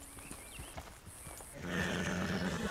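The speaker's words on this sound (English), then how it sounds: "This horse needs to come up." A horse in Red Dead Redemption 2 gives a loud whinny while hooves clop faintly beneath, the neigh swelling in the second half over a quiet outdoor game ambience.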